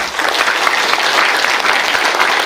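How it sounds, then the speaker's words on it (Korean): An audience at a police-related lecture applauds to thank a speaker, a short, loud, dense round of clapping from many people with no voices. "큰 박수로 부탁드립니다."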